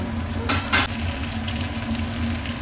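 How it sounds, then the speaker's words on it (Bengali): Potatoes and pointed gourd fry in a pan, with a low, steady sizzle and two quick bursts of stirring near the start, heard close with no voices. "এবার আলু আর পটলগুলোকে একটু লাল লাল করে ভেজে নেব"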